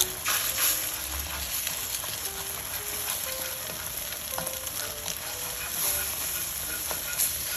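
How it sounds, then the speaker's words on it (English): Egg scrambled with a spatula in a hot pan for Singapore mei fun, a steady frying sizzle with scraping stirs running throughout, fairly loud and close, no talking. "And keep scrambling it."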